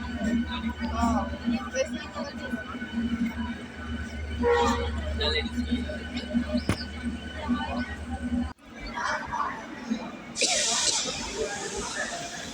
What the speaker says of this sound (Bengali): আমি আজকে ট্রেন দিয়ে যাচ্ছি